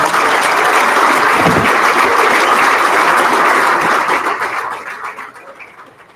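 An audience at a New York State Baseball Hall of Fame induction dinner keeps up a sustained burst of clapping, loud and dense, that fades out toward the end.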